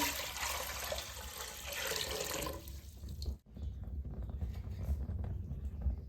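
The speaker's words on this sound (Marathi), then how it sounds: "पातेल्यामध्ये पाणी ओतून घेऊ" Water pours into a pot in a steady gushing stream for a few seconds, stops briefly, then continues as a lighter trickling and splashing.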